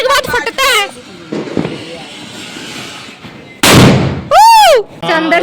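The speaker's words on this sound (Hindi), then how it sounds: "ये देखो गंगा जमुना है ये गाइस। ये कुआरा जलने के बाद फटता है।" Ganga Jamuna Diwali firecracker lit outdoors, giving loud crackling bursts and a whistling rising-falling tone near the end, with voices and shouts around it.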